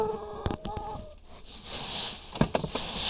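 Farmyard chickens cluck and squawk close by in short, uneven bursts while being fed leaves, with rustling and handling noises between the calls.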